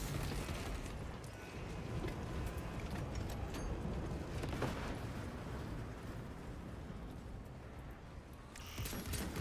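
Continuous roaring, rumbling blasts with sharp cracks scattered throughout, loud and dense like an ongoing barrage of explosions in Space Marine II as a cruiser breaks apart.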